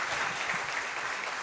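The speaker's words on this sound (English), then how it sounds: "Another round of applause to the Minister of Health" Sustained applause from an audience at a regional health assembly in Mbale, honoring the Minister of Health; dense steady clapping fills the whole moment with no voices over it.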